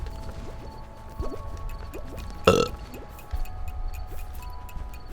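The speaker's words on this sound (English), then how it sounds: "That's not even the best burp I can do" A single short, loud burp erupts near the middle, standing out sharply against a quieter background of faint ticking and mechanical game sounds.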